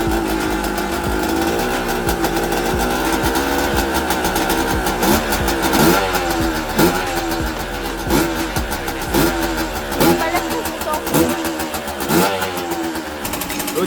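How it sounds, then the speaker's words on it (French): A KTM 125 EXC motorcycle engine running after being brought back to life and restarted, holding a steady buzzing idle broken by a rhythmic series of short throttle blips, close and loud with no talking. "La moto elle tourne enfin, je suis super content, elle a enfin démarré"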